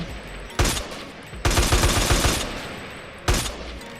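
Gunfire in the video game MTA on a freeroam server in first-person mode: three loud, close bursts of rapid shots, the middle one a long sustained volley, with short quiet gaps between.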